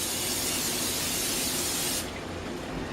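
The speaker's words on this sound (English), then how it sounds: "Just get yourself a nice roasting pan. Spray it down." A steady, loud hiss of cooking spray from a can onto a roasting pan, running continuously and then easing slightly toward the end.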